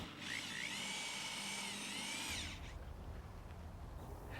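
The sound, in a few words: power screwdriver driving stitch screws into metal roofing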